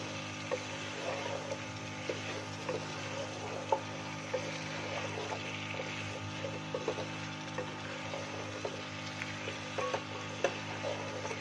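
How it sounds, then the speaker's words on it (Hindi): Turnip and spinach (shalgam palak) sautéing in a pan, a steady low sizzle with occasional light scrapes and clicks of stirring, close and continuous with no talk. "तकरीबन 5 मिनट हम इसकी बुनाई करेंगे।"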